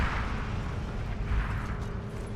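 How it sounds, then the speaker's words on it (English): A heavy, sustained explosive rumble in the Forgotten Hope 2 game on the Gazala map, a dense low boom that fills the short moment without letting up. "I blew him up as revenge"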